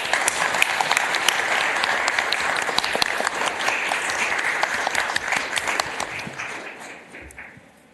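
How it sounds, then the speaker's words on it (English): Sustained applause from an audience at a St. Paul city council organizational meeting, loud and steady for about six seconds before thinning and fading out. "Let's give them a round of applause."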